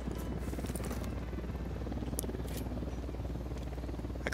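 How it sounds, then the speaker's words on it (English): A medic helicopter in the video game Ghost Recon Wildlands flies past, a steady rotor drone that holds even and continuous throughout, with no speech over it. "Medic choppers."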